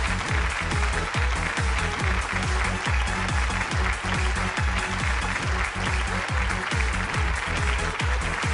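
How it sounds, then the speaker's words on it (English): Dense, steady audience applause at a corporate brand awards ceremony honoring Air India, many hands clapping continuously and loudly in an indoor hall with no talking. "Let's have a huge round of applause for our national carrier,"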